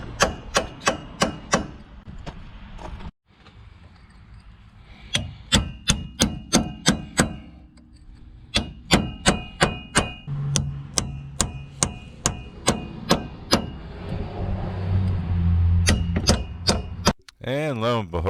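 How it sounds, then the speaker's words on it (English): A hammer driving a fine chisel to break rust between the steering knuckle and wheel bearing on a 2015 Ram 2500 4x4 front axle: sharp, loud metallic strikes in quick bursts separated by pauses, close by. "try a finer chisel to begin with"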